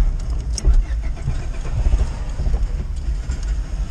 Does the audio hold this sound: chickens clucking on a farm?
no